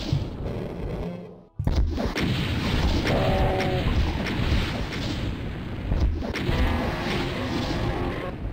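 Heavy booming blasts from rocket launcher fire in the Doom level E2M4 Deimos Lab, a loud crash after a brief silence followed by rumbling explosions and game noise, with no talking.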